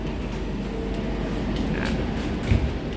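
Steady rumbling interior noise of a moving KA Jayakarta passenger train travelling from Jakarta to Solo, a continuous low drone with a brief louder bump near the end and no talk.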